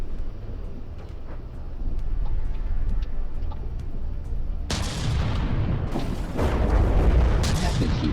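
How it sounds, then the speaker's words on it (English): A big explosion in an anti-air ship video game bursts in suddenly over a low rumbling background, followed by a loud, crackling roar with a second surge, as if debris and fire keep going. "It seems like there was just a big explosion here and nothing else for us."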